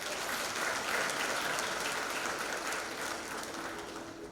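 An audience at a university graduation ceremony applauds the graduates, a steady, fairly soft and distant wash of clapping that continues evenly and tapers a little at the end.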